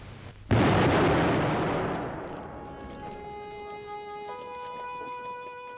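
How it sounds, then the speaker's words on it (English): A V1 flying bomb's one-ton high-explosive warhead detonates in a sudden loud blast, and a long rumbling roar follows and slowly decays. Steady tones sit in the background as the rumble fades. "The V1s were launched day and night, the 1-ton warhead of high explosives causing enormous damage in built-up areas."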